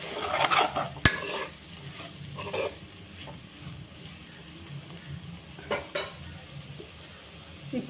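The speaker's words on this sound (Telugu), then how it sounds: "ఈ టమాటా ముక్కలు కూడా వేసుకున్న తర్వాత మీరు ఒకసారి కలిపేసుకోండి." Tomato pieces being stirred into Telangana-style bitter gourd curry in a pan, with a spoon scraping and clinking against the metal in irregular strokes, a sharp clank near the start and faint sizzling underneath, close and moderately loud, no voices.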